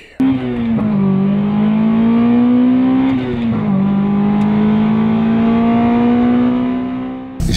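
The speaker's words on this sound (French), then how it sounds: "place à laisser kiffer ce moteur Honda Civic Type R" A Honda Civic Type R EP3 with a naturally aspirated 2-litre engine revs hard and holds a high, clean, smooth wail, dipping briefly between pulls before climbing again, loud and close.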